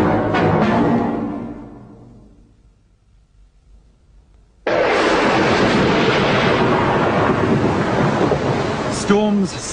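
Thunderstorm with high winds: a loud rolling thunder crash fades into near quiet, then a dense roar of wind and rain bursts in abruptly and holds steady to the end.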